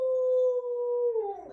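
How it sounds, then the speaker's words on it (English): A dog gives a single sustained, steady howl that lasts about a second and a half, close and fairly loud, then breaks and wavers as it trails off. "oh, that's my dog."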